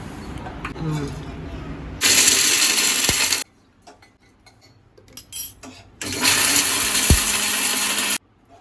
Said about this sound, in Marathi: आई मिक्सरला वाटून घेते